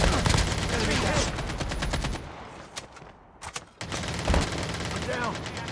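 Rapid bursts of automatic gunfire in a military shooter video game, loud and dense, break into a brief lull near the middle before heavy firing resumes, with game voices faintly mixed in.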